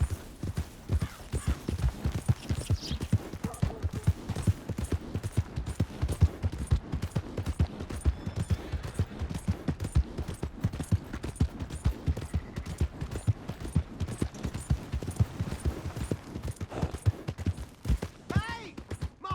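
Horse hooves clip-clop in a steady, continuous rhythm throughout a Red Dead Redemption 2 game scene, close and fairly loud, mixed with other game sounds.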